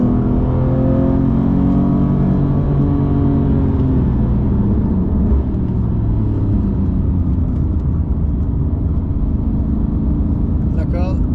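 A Porsche GT3 Touring with a manual gearbox accelerates, its engine a loud, steady rumble and whir that holds near and continuous throughout, with talk over it.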